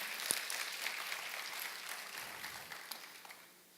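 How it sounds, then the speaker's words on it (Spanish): Church congregation applauding during a worship service, a faint continuous patter of many hands clapping with scattered sharper claps, sounding distant and gradually thinning toward the end. "Dale un fuerte aplauso al Señor."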